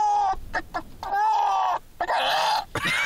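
A human voice imitates a drunk hen, giving a run of exaggerated, wobbly clucks and squawks in several bursts with short pauses, loud and close.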